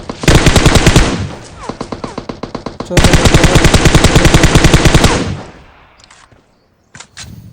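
Automatic gunfire in the mobile battle-royale game PUBG Mobile: two long, loud rapid-fire bursts of evenly spaced shots, then a fading tail and a couple of isolated single shots, with a brief spoken word.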